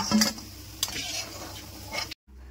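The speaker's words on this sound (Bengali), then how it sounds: "ধোকাগুলো আমার ভাজা হয়ে গেছে, লাল লাল করে" Fried dhoka, lentil cakes of chickpea and pea dal, are lifted out of hot oil in a pan, with a few sharp scrapes and clinks of a utensil over a faint sizzle before a brief cut to silence.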